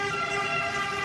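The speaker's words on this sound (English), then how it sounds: "Ambulance is going." An ambulance siren wails steadily and fairly loud, a sustained tone heard alone for about a second.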